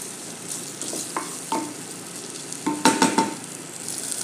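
Corn kernels sauté in a pan with garlic while a utensil stirs them, a low steady sizzle broken by scattered scraping clinks against the pan, close and without voices.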